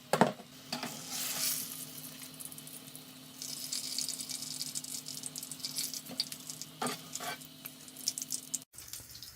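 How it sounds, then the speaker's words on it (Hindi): Potato chapli kebabs fry in a pan with steady sizzling under occasional stirring or scraping clatter, continuous and moderately close, with a brief dropout near the end. "इसी तरह ये हम सारे फ्राई कर लेंगे"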